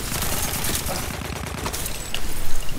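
Rapid gunfire from a shotgun in a video game, dense repeated blasts over a low rumble that grow louder near the end.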